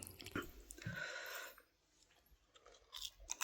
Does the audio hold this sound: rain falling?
no